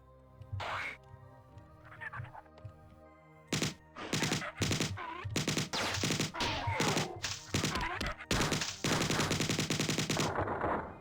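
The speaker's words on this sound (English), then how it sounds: "it's a machine gun thing. Pew pew!" Alien machine gun firing in the video game Marathon, with short bursts building into sustained rapid-fire volleys that sit loud and close, alone without talk.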